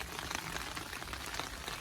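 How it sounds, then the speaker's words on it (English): Steady rain falls over a garden of roses, a dense continuous patter of drops with no gaps, moderately quiet and close, with no voices over it. "as you can probably hear, it is raining."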